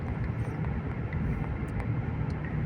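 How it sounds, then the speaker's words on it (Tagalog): An aircraft passing overhead gives a loud, steady, broadband roar that fills the whole short stretch and stays dense and low-heavy throughout, with a few faint high ticks on top. "May sasakyan sa langit dumadaan."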